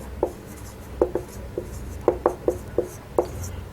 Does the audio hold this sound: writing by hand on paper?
yes